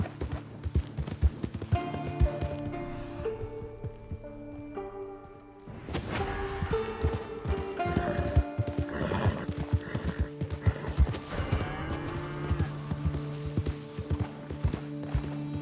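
A horse in the Red Dead Redemption II video game clip-clops along with rhythmic hoofbeats and whinnies loudly, over game ambience and music that swells midway through.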